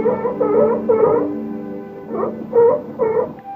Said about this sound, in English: A friendly seal sounded like a dog barking.